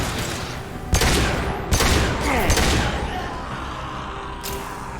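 Mass Effect 2 gunfire on Insanity difficulty: loud, close bursts of shots with sharp cracks near one, two and two and a half seconds, plus a later burst, over a rumbling combat backdrop.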